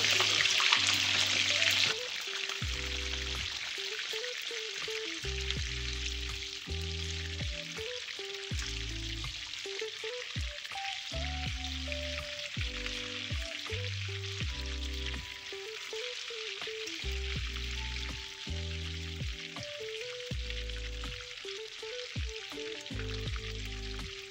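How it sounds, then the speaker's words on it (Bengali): Brinjal slices fry in hot oil with a continuous crackling sizzle, punctuated by repeated clattering as the pieces are turned over; a louder hiss at the start settles into steady frying. "তেলটা গরম হয়ে এসেছে, এর মধ্যে আমি বেগুনগুলো একটু হালকা করে ভেজে নেব।"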